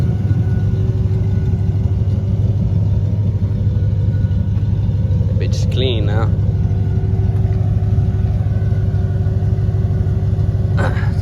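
A Chevy project truck on 24-inch wheels and 35-inch tires is being driven, with a steady low engine rumble and road noise throughout while someone speaks briefly.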